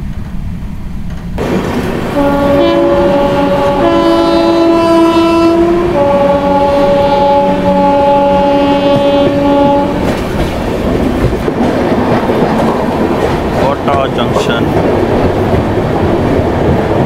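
The Trivandrum Rajdhani Express nears Kota Junction, its horn sounding in long sustained blasts over a steady rumble and clatter of wheels on rails, loud and close from inside the moving train.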